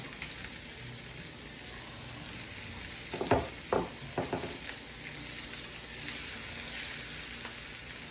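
Eggplant pieces coated in curry paste fry in a pan, a low steady sizzle with a few sharper bursts of spattering and stirring midway, no voices.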